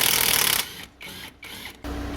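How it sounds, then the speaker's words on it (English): A socket wrench works loose an 18 mm bolt on a 2005 Nissan Micra's suspension during coil spring replacement, a loud whirring ratchet or impact-driver buzz in several bursts with short pauses, close up and with no talk. "We're going to take that off and we'll go from there."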